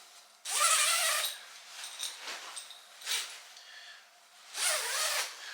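Robust zips on a British Army surplus sleeping bag pulled in three bursts: a long close rasping run, softer shorter movements, then another quick zip at the end.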